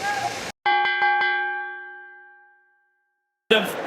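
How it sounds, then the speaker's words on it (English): A boxing ring bell clangs at the end of a round in a heavyweight bout, several quick metallic strikes ringing out and decaying over about two seconds between bursts of crowd and commentary noise. "Listen for the bell."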